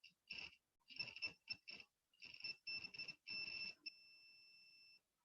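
Multimeter continuity tester on a circuit, emitting a bright two-tone electronic beep in short bursts of varying length, then one steady sustained beep, quiet and close with no voices.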